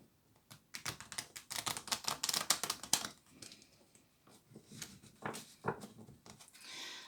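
Cards from an oracle advice deck are shuffled and drawn. Crisp, rapid flicking clicks come close up in uneven bursts, with short pauses between them.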